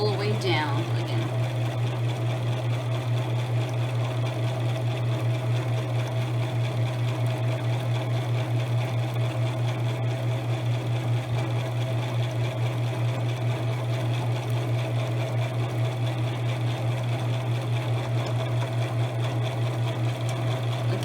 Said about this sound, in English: I'm going to continue to sew all the way down again.